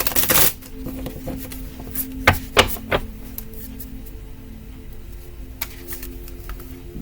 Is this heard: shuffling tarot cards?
yes